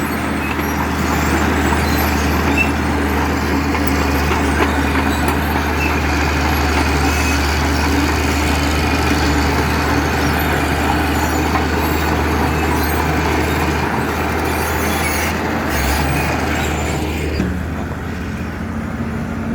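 A tractor's heavy diesel engine runs steadily at close range with a deep, constant rumble, shifting slightly near the end.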